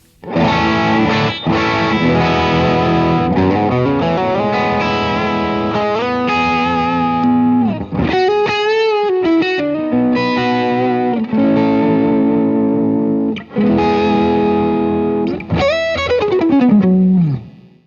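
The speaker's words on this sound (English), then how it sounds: "Let's throw in some more drive so you can hear the quality." Overdriven electric guitar through a pedal board with a Goodwood Audio Long Line plays a loud riff of chords and bends, with short gaps between phrases and a gritty, saturated tone throughout.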